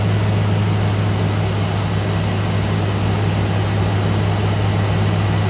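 A Chevrolet Corvette C5 Z06, run for the first time in years after sitting in a storage locker, gives off a loud, steady engine drone with a constant low hum and no clear rise or fall in revs.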